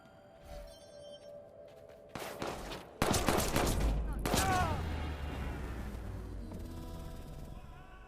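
Gunfire in the video game Watch Dogs 2, a fast cluster of sharp shots followed by a booming burst and a lingering rumble, loud and close over faint game ambience.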